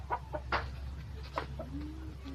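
A chicken clucks close by in a few short, uneven bursts over a low steady background hum, with no one speaking.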